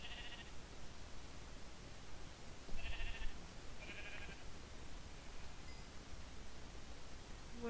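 Sheep in Minecraft bleat a few times, short faint calls spaced apart over a quiet background hiss.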